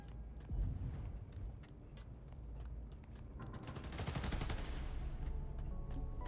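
Robbers firing guns at electrical transformers in Spider-Man: Miles Morales, a fairly quiet scene of sustained rapid gunfire that swells into a denser burst of shots near the end.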